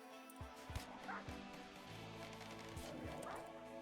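Dog barking and yipping in the colony-management video game RimWorld, several short sharp barks in uneven bursts with faint whimpers, fairly quiet, with speech partly underneath.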